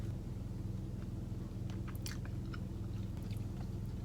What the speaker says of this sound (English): Let's go for this bite right here.